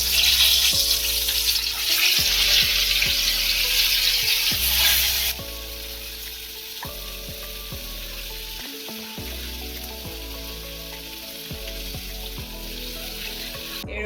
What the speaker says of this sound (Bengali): ডিপ ফ্রাই করার জন্য আমি আরেকবার করে তেলের মধ্যে এগুলো ছেড়ে দেবো